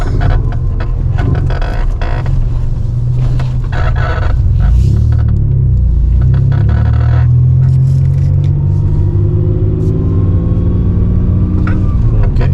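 A 1995-2004 Toyota Tacoma pickup truck driving around the block on a test run after a toe alignment: a loud, steady engine and road rumble from inside the cab, with a rising engine tone toward the end.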